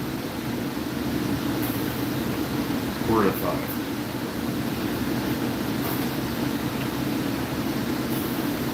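Hudson-Bergen Light Rail train running, heard from on board: a steady low rumble and broadband rolling noise fill the whole stretch, with brief squeaks and a short rise near the middle. Speech is barely present.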